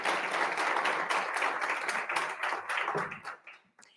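An audience at a panel event on gender and inclusion in energy transitions gives a sustained round of applause, dense and steady, then thinning and trailing off into a few scattered claps near the end.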